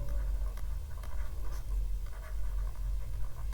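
Pen writing a label on a map during a geography mapping lesson, heard as steady, close scratching strokes that continue throughout with no talking.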